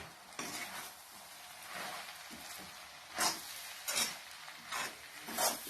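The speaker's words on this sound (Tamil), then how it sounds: "இப்போ இதை அப்படியே நம்ம நல்லா பெரட்டி விட்டுக்கலாம்." Shredded parotta being tossed with egg in a pan for egg kothu parotta, heard as a soft background sizzle broken by several louder, rhythmic scraping strokes of a spatula, close and without talk.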